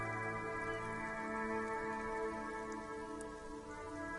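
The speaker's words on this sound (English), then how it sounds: "It's raining again." Steady rain ambience in the video game Disco Elysium, a soft continuous hiss layered over sustained tonal music drones.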